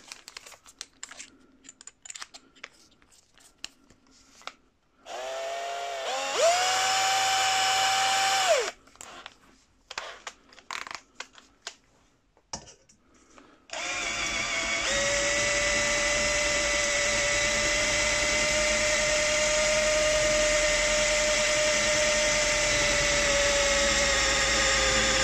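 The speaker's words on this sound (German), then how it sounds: "Und dann werden wir noch mal gucken, wie sich das jetzt mit einem normalen Akkuschrauber darstellt." A cordless drill drives a Parkside combination tap into material, giving a short whining burst followed by a long, steady high motor whine, with clicks and handling noise in between.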